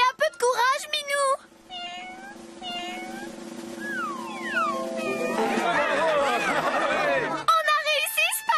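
Several high, wavering kitten meows come and go over background sound, with a busy stretch of overlapping cries and voices near the end.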